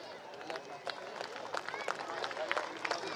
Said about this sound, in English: A huge round of applause for Mr. Ramesh ji.